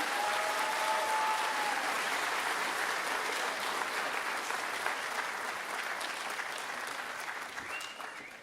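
A school concert crowd applauds student orchestra musicians with dense, steady clapping that carries on for about eight seconds before slowly thinning and tapering off.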